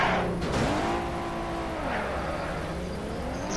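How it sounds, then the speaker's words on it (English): A fast car engine in the Car Crushers video game revs up and then holds a high, rising and falling drone, loud and close, with no talk. "This car goes really fast."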